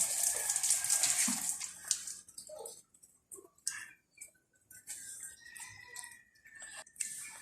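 A gentle stream of water is poured over potted orchids in coconut husk and charcoal medium, starting as a soft steady splash, then breaking into faint intermittent trickles and drips.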